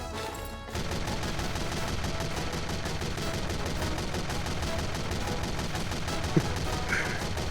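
Rapid, continuous gunfire in Team Fortress 2, a loud unbroken stream of shots that starts after a brief pause and keeps a steady rhythm to the end.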